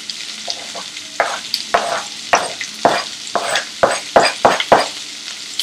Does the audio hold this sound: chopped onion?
yes